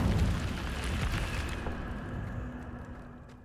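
The Incendio fire spell is cast in Hogwarts Legacy: a loud, rumbling burst of flame that flares up at once, then slowly fades into a low crackling tail.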